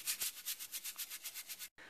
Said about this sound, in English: you gotta use a vegetable brush and scrub out as much as you can